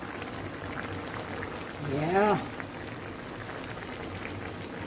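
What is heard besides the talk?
fish boiling and bubbling in a pot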